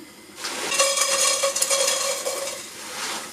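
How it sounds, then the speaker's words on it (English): Chopped onions tipped into a pot for an African peanut stew, a sudden rustling sizzle and scraping stir lasting a few seconds, close and fairly loud, with no talking. "But what we're gonna do instead is just put onions in here for now."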